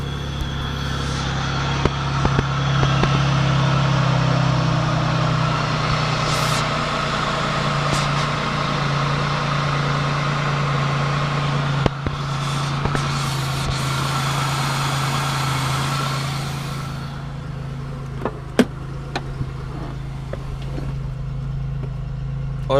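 A Pontiac car engine idles steadily after starting, with a low, even rumble and a few faint clicks and knocks near the end; no one speaks.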